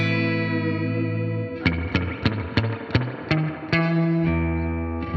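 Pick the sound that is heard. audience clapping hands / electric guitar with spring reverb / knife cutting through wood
electric guitar with spring reverb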